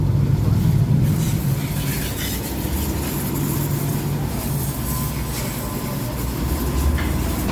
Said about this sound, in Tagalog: ang makina po nito ay Isuzu 4KH1